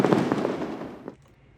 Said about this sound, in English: And do fireworks.